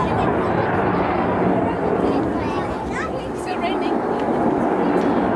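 A Eurofighter Typhoon jet of No. 29 Reserve Squadron flies at the East Fortune airshow, its loud, steady roar filling the whole stretch. An announcer's voice carries over the roar.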